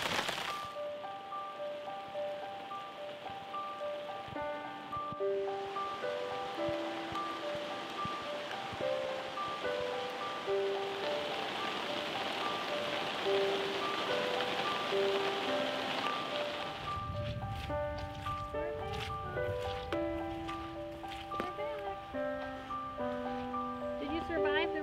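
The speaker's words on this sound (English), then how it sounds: "Did you survive the rain shower?" Rain shower falling on a homestead, a steady hiss of drops on surfaces throughout, under a person talking.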